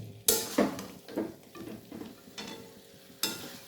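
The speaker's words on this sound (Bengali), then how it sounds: "আমাদের চিকেনটা ভালোই কষানো হয়ে গেছে আর একটু কষিয়ে নেব" Chicken being stir-fried in a pan for a homestyle chicken and potato curry; a low sizzle runs under repeated spoon scrapes and clanks against the pan, with a sharp knock at the start and another near the end.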